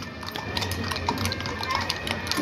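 Horses' hooves at the Palio del Baradello 2023, a costumed historical horse event, make soft, scattered clip-clop steps against a background of crowd murmur.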